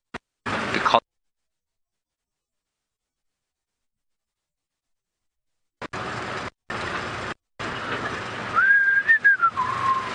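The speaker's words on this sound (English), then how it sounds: "Why am I whistling? I've never whistled before." A person whistles a short wavering tune near the end, after a brief burst of noise and a long silence, with intermittent rustling sounds.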